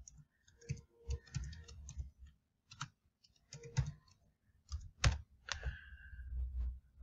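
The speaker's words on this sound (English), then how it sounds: "I will type my master password" Someone types a password on a computer keyboard, producing soft, close key clicks in short irregular bursts with brief pauses between them, quiet and alone.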